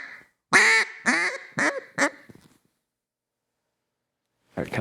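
A handheld duck call imitates ducks on a river with a run of four raspy quacks that shorten as they go, close and loud, then a pause and the start of another call.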